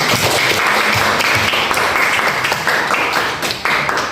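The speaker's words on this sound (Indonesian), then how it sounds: "kasih aplaus dulu untuk Fitri" A classroom applauds a student named Fitri after she answers a lesson on seed germination, giving a steady, dense burst of many hands clapping close by for about four seconds with no talk over it.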